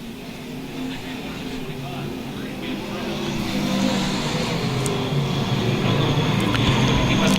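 USRA A and B modified stock cars race the final lap at Lakeside, a steady engine roar that swells louder midway as the pack passes, with an announcer talking over it.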